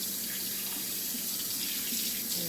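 Tap water runs steadily into a sink while small feeding tools for a baby Hawaiian zebra dove are rinsed, a continuous close splashing hiss with slight shifts as the tools move under the stream.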